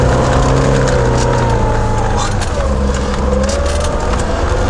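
A vehicle on mud-terrain tires in low-range third gear revs hard as it ploughs through a winter snow drift, its engine a loud, steady drone that holds from start to finish.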